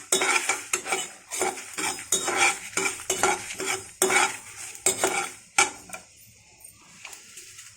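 Spices and fenugreek seeds for methi rasam are fried in a pan and stirred with a metal spoon: repeated close scraping strokes over a soft sizzle, tapering off near the end, with no speech.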